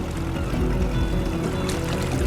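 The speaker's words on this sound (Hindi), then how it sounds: "कश्ती में पानी आ रहा है" Water gushes and churns steadily into a small boat at sea, a continuous rushing, sloshing wash close by with no talking.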